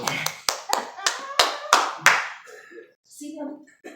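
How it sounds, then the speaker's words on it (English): A few people clap in a short, sparse round of applause with distinct separate claps, followed by brief voices talking. "Okay, round of applause."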